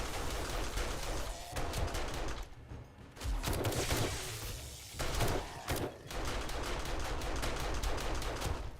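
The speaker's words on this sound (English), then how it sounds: "time to shoot a rocket in my house" A rocket launcher is fired inside a house in a survival video game, the launch and blast lost among dense, continuous rattling gunfire and thumping impacts that keep a loud, steady level throughout.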